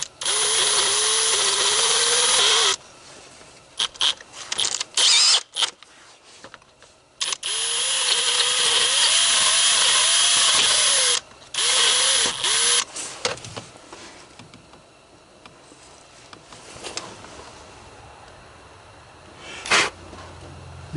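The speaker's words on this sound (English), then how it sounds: "I'm going to have to clean that out, that bore out a bit. So I got a drill bit" Power drill with a bit boring out a tie rod end bore on a 2005 Honda Accord, several loud whining bursts of a few seconds each separated by pauses, close up, with quieter clicks and handling noises toward the end.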